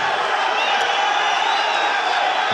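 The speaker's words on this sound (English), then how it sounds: "The crowd going crazy here for this amazing bout between these two men." An arena crowd roaring at the end of a wrestling bout, a dense, loud, sustained wash of cheering and shouting that holds steady throughout.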